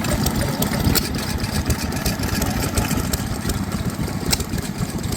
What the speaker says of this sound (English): Here we've got a Reading engine.